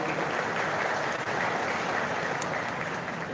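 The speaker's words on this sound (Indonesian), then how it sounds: "Yang sebelah kanan saya boleh minta lagi tepuk tangan dong," Steady applause from a large crowd fills the whole stretch, dense and even, with no pauses.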